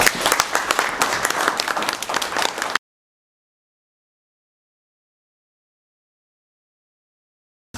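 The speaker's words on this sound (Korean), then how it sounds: "큰 박수로 환영해 주시기 바랍니다." Audience applause at a business breakfast forum as a guest speaker is welcomed to the podium, dense close clapping for under three seconds before cutting to silence.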